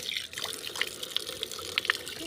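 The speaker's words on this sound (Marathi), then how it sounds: "आता या परातीमध्ये आपण पुन्हा पाणी टाकलं आहे" Water splashes and trickles into a tray with scattered drips and small splashes, a continuous light liquid sound close by.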